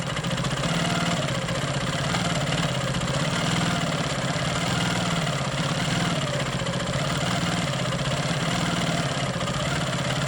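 A Quilt Maker Pro 20 quilting machine stitches straight lines, giving a steady mid-pitched motor hum with a fast, even mechanical pulse that runs loud and unbroken throughout, with no voices.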